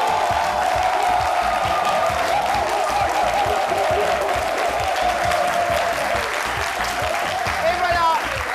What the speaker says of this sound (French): c'est sur ces applaudissements que je vais vous demander de recevoir Alissar Zena